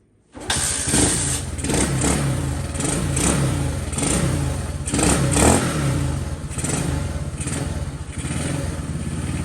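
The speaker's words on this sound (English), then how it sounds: "Chokes up, first kick" A minibike engine, part of an adventure-style Moab build, kicks over on the first try with the choke on and settles into a loud, steady idle. Engine noise fills the whole clip, with small surges in revs and no talk.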